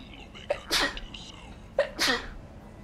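Two sneezes in a row, each with a sharp intake of breath followed by a loud burst, close to the mic.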